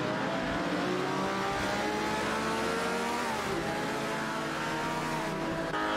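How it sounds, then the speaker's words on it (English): Racing game cars, a Lamborghini 400 GT against a Pontiac, roar at a steady, loud engine drone, with revs rising and falling across overlapping tones and no voices. "It's a Lamborghini 400 GT versus a Pontiac Bundle 68 showdown."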